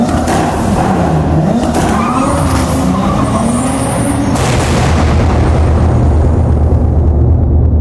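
Loud, continuous roar from a Lexus IS200 fitted with a Supra 2JZ engine and big turbo, with deep rumbling and crackling bursts from the exhaust that sound like backfires.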